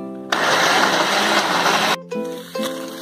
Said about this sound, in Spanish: ahora solamente vamos a licuar la salsita, vamos a ponerle la sal y ahora vamos a licuar